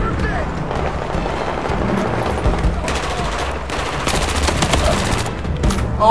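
Suppressed gunfire in Battlefield 4: dense, steady rattling bursts of muffled shots fill the whole stretch, loud and close, with battle noise underneath.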